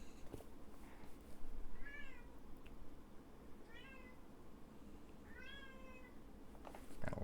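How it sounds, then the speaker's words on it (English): A cat meows outside a door, three separate drawn-out calls spaced a couple of seconds apart, muffled and fairly faint over a steady background hum. "Loud cat outside my door."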